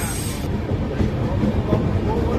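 A passenger train rolls slowly past Kashi railway station, a steady broadband rumble of wheels and carriages with faint rhythmic clatter, continuous and close, no talk.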